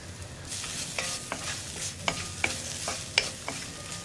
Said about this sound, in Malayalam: രണ്ട് മിനിറ്റ് ലോ ഫ്ലെയിമിൽ വെച്ചിട്ട് ഇളക്കി കൊടുക്കുക